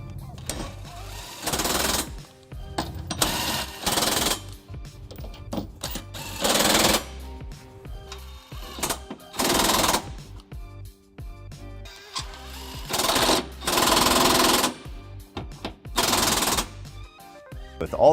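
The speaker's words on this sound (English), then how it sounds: "I'm just going to snug these up with a 19mm socket" Trailer hitch bolts on a 2010 Pontiac Vibe get snugged with a 19mm socket, loud close buzzing bursts of a powered ratchet or impact tool, about eight of them separated by short pauses, and some speech mixed in.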